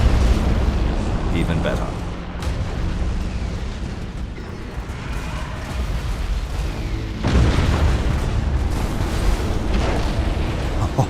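Torpedo explosions in Battlefleet Gothic Armada 2 space battle, a continuous heavy rumble of booming blasts that swells again near the end, with someone talking briefly over it.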